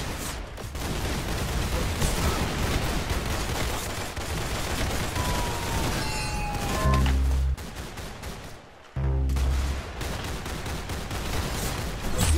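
Rapid, dense gunfire fills a round of the Roblox shooter Arsenal, with sustained bursts of shots throughout, a brief pause near the end, then the firing resumes loud and continuous.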